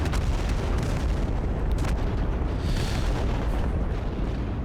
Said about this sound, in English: Okay, something is firing at me,